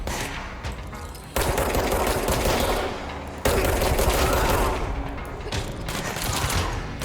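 Sustained bursts of automatic gunfire from enemies in the video game Control, with dense, continuous shooting that surges louder partway through and keeps rattling close by without pause.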